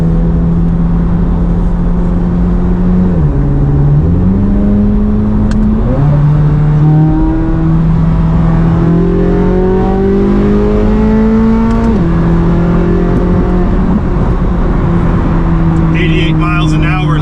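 A 670 HP Corvette C8 Z06 accelerates onto a freeway, its engine note rising through several gear changes in a steady, loud, continuous drone with stepped pitch shifts, heard from inside the car.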